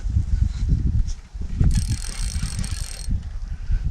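A fishing reel's drag clicks in a short, rapid ratcheting burst as it is loosened while lake trout fishing in January, close to the microphone with some wind noise around it.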